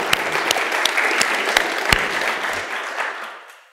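Audience at a trade and infrastructure talk breaks into brief applause, a loud burst of clapping with sharp individual claps that quickly thins and fades out within a few seconds.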